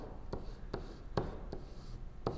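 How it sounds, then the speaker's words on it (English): Pen writing on paper while working a math scale-factor problem, a quiet scratching with five distinct tapping strokes spaced evenly, close up, with no talking. "We'll write down what we know."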